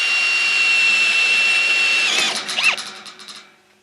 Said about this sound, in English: I like to drill this hole through the hip board slightly larger so that the shoulder of the carriage bolt seats in there better